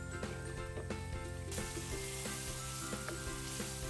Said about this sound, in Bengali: বাড়িয়ে ভালো মতো করে মশলার সাথে এই ডাঁটাগুলো একটু ভাজা ভাজা করে নিব